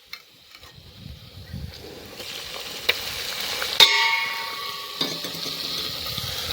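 Tomatoes hit a hot pan of spiced eggplant olo with turmeric and coriander-cumin, cooked outdoors at a farm. Quiet clinks give way to a rising, sustained sizzle, with sharp utensil clicks over it.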